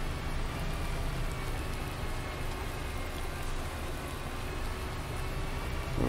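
Steady rain drums on a combine cab during harvest, a dense even hiss and patter that continues throughout with a low machine rumble underneath and no speech.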